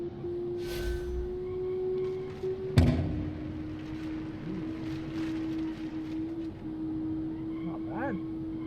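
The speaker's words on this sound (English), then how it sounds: "let's see how this 5-cylinder engine will actually sound in the tunnel" Five-cylinder sport wagon engine echoing in a tunnel in a racing video game: a steady, close drone that holds one pitch, with a sharp burst just before the three-second mark.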